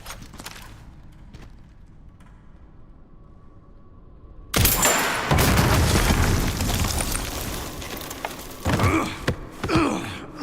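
Gunshot blasts in Resident Evil, a quiet stretch with a few faint knocks, then a sudden loud boom followed by rumbling echoes and a second burst of impacts near the end.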